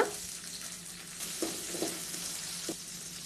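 Ten small shallots frying in oil in a wok for curry leaf chutney, a soft, steady sizzle at low level with a few faint clinks from stirring, no voices.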